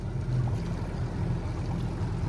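A sailboat's engine runs steadily in shallow South Pacific island water, a continuous low hum with faint lapping water, close and unbroken throughout.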